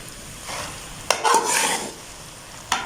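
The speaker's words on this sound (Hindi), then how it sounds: "मिक्स करके 1 से 2 मिनट हमने इसको सिर्फ पकाना है" Elbow macaroni with chicken and vegetables being stirred in a pan makes soft sizzling and scraping sweeps, with a few sharp utensil knocks against the pan, close and without talk.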